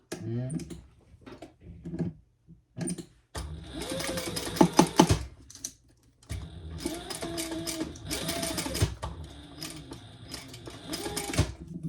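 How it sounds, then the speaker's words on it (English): A sewing machine stitches two rows of seams on a fabric baby sling, running in rapid mechanical bursts with brief pauses between passes, close and loud, with a little talk early on. "I'm doing 2 rows of stitches."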